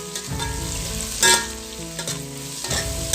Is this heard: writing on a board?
no